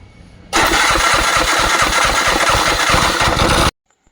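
An auto rickshaw engine starts with a burst and runs at a loud, rapid, rattling idle for about three seconds, close by, then cuts off into near silence.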